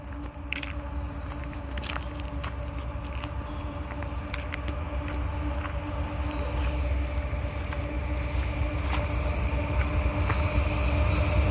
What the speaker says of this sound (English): I hear the train coming down the hill